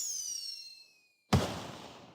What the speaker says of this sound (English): The flame turned into fireworks exploding in a dazzling message across the night sky.